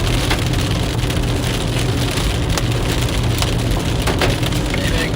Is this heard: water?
no